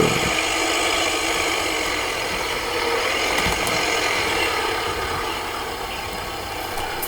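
A tractor engine idles in the farming game Farming Simulator 2015, a steady, continuous mechanical drone that holds at an even level throughout with no talk over it.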